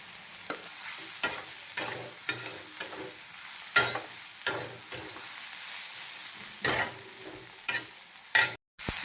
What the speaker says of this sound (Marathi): मटकीची उसळ आहे ना छोट्या गॅसवरती एक पाच मिनटं शिजू देणार आहे